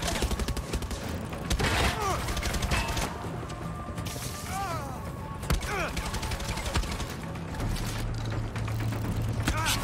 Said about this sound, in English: I have no idea if I'm shooting the pilot or what.